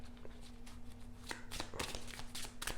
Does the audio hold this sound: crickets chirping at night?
no